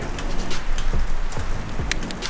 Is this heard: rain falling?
yes